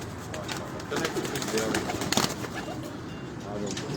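A French-cross racing pigeon coos softly a few times amid a busy rooftop background, with voices talking nearby.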